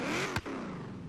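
Supercharged 6.2 liter V8 of a classic Chevrolet Camaro Z28 revving in Forza Horizon 3, a loud, close, steady engine roar with a brief dip partway through.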